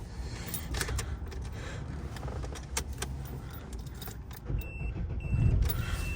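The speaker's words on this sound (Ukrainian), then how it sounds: "цим ключом машина заводиться" Keys jangle close by inside an Opel Astra H, then the engine turns over and starts with its original key, a low rumble rising near the end.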